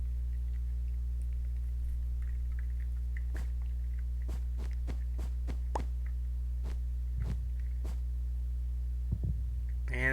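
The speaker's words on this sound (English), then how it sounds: "And there's a heartbeat over here." In a Minecraft modpack, a series of soft heartbeat thuds repeat at a steady pace, then a few more follow irregularly, all faint over a constant low hum.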